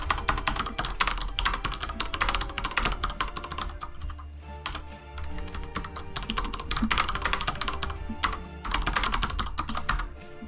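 Rapid, continuous computer keyboard typing fills the clip, dense clicky keystrokes in irregular bursts, close and fairly loud, during a Darkest Dungeon stream session, with a low background hum and no talk.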